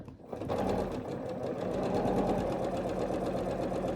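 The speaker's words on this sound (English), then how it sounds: "All you're going to do is just sew that cornerstone" A sewing machine runs steadily for several seconds, joining a cornerstone onto a quilt block with a quarter-inch seam, a close, continuous mechanical whir with a fast stitching rhythm and no talk.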